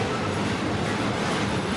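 A CPKC freight train races alongside another train, giving a steady, loud, close rumble of rolling wagons with no break.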